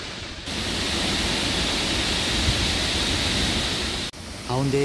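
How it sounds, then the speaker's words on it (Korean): Several waterfalls pour down a rock cliff at a former quarry, giving a loud, steady rushing roar that cuts off near the end before a voice briefly begins. "그 아래 바위 절벽에서 막 폭포가 시작됩니다."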